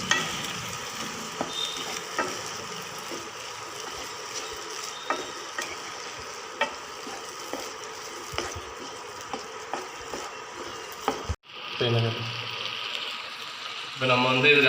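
Tomatoes sautéing in a pan for a macaroni dish, with a steady sizzle and regular scraping, knocking stirs, then a brief break and a softer hiss, with some talk in the background.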